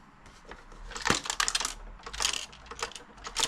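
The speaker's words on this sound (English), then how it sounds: "you can definitely hear parts just rattling around on the inside." Loose broken plastic parts rattle inside a damaged SNES console as it is moved, giving quick clusters of small clicks and ticks in irregular bursts, fairly close and moderately quiet.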